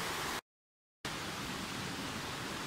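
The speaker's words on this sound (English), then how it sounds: "nice spot right here to catch the whole panorama of the river, and it's not too loud either because I'm not too close" A river flowing at a distance, heard as a steady broadband rush that cuts out briefly early on, then resumes evenly and moderately loud with no voices.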